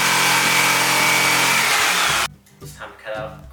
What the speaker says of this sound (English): Here's Clayton cutting out a sheet of wood.